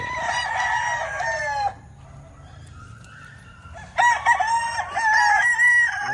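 Gamecock rooster crowing twice in full, loud and close, with a short gap between the harmonic calls and faint low background noise.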